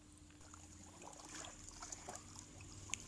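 Water trickles and pours out of a large fish tank that holds a big African catfish. The sound is quiet, soft and continuous, with no one speaking.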